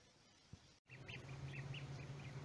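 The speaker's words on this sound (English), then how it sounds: "You get adopted by a family of ducks, Gary." A family of ducks near a lake by the roadside gives soft, repeated quacks at a moderate distance over a steady low background hum.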